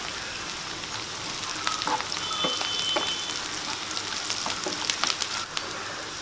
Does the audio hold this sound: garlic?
yes